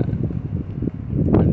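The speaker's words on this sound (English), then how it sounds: "and it's really windy also." Strong wind buffets the microphone outdoors on a cold day, a continuous close rumbling gust that swells and eases without any talk.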